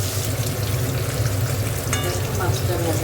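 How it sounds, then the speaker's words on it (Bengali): Fish rubbed with salt and turmeric fries in hot oil, a dense, loud, continuous sizzle with crackling bursts and a few stirring clinks, no one speaking. "তেলে ভেজে নেবো মাছটা।"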